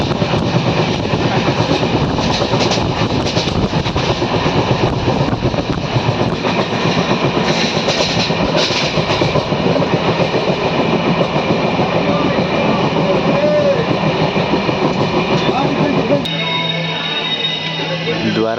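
Tirumala Express passenger train running on rails between Kadiyam and Dwarapudi, a loud continuous rumble and rattle from onboard with rhythmic clatter, easing off near the end as the train slows.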